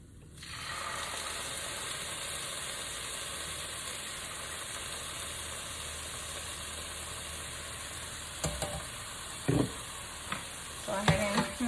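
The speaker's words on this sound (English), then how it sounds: "Go ahead and I'm gonna get that all stirred in here. Get that mixed up well." Cauliflower chicken fried rice sizzles steadily in a hot pan as light soy sauce is stirred through, with a few sharper scrapes and clatters of the utensil near the end; no one speaks.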